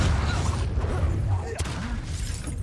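A Confringo spell blast in Hogwarts Legacy, a dense crackling burst with rumbling booms that stays loud throughout, one sharp crack near the middle.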